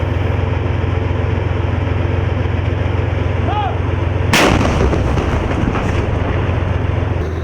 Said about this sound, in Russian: Отстреляв по целям, мы меняем позицию.